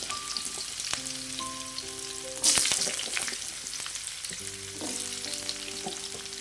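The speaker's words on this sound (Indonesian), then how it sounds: "Lanjut kita goreng petenya ya." Petai beans frying in a pan of hot oil, a continuous crackling sizzle with a sharp burst of spattering partway through and light stirring clinks, with no talking.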